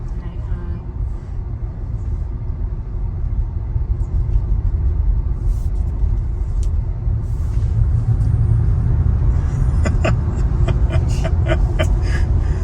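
Low road rumble from inside a Tesla as it merges onto the highway, a steady engine-free drone of tires and wind that swells slightly as speed picks up, with clicks and faint voices.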